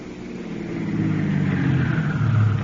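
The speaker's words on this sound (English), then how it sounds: "Isn't that a car coming up the drive now?" As a radio comedy sound effect, a car comes up a drive, its low engine rumble swelling gradually as it approaches, with no voices over it.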